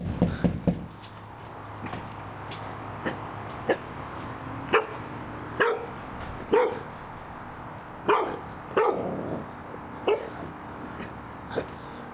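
Several dogs bark around a man at a police scene, with scattered sharp barks and yelps spaced through the scene over a low background hum, some louder and closer than others.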